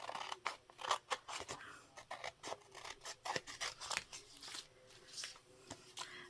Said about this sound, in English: I will cut these two out.